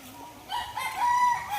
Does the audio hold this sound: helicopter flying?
no